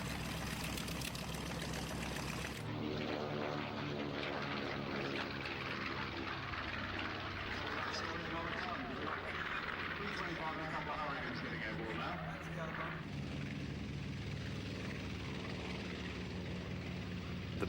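A B-25 Mitchell bomber takes off from a concrete runway at the Duxford Flying Legends airshow, its twin propeller engines droning loudly and steadily, shifting in pitch as it climbs away, with someone talking over it.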